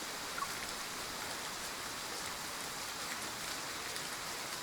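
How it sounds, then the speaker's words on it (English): Steady rain falls on a surface, a dense, even hiss of countless drops with no voices, holding at a constant moderate level throughout. "the sound of rain once again fills our ears"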